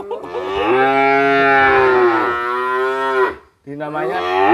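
A cow lowing loudly and close by while being fed, one long drawn-out moo followed by a brief pause and the start of a second call.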